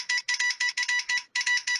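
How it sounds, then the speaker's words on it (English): A phone ringtone plays on its own in quick repeated electronic bursts with short gaps between them, bright and fairly loud, with no talking over it. "Is that like a ringtone or something?"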